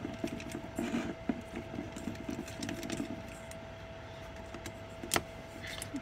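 Close, quiet metallic clicks and small scrapes come from an Allen key working the head bolts loose on a dirty RC nitro engine, with an irregular rhythm over faint background hum.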